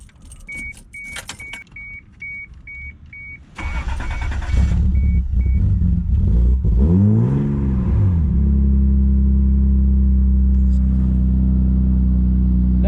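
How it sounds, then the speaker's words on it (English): A Toyota Supra MK3 is started and moved into a driveway: keys jingle and a warning chime repeats, then the engine catches and settles into a loud, close idle with a rising and falling rev. "I'm gonna get the Supra moved into the driveway so I can install that."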